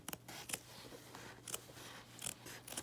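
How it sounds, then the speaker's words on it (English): Scissors snip along the inside of a jacket seam in a series of quiet, crisp cuts, each blade closing in an uneven rhythm, close and faint with no talk. "And again, we'll cut along the inside"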